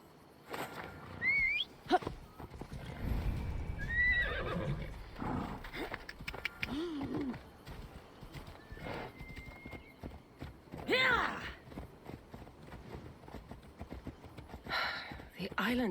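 Horse hooves clip-clop steadily during a ride in a video game, a rhythmic trotting under frequent dialogue, with occasional whinnies and ambient wildlife calls.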